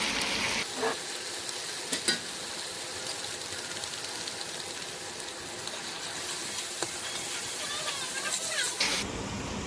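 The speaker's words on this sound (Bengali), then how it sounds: "এখন এই মশলাটাকে খুব ভালোভাবে কষিয়ে নিতে হবে" Turmeric, salt, cumin powder and shahi garam masala sizzle steadily as they are fried and stirred in a pan, a constant close hiss with occasional clinks, while a voice talks over it.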